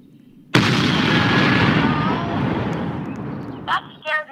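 An explosion goes off in the Roblox Jailbreak video game as a sudden, loud blast that rumbles on and slowly fades, followed by a few short synthetic game sounds near the end.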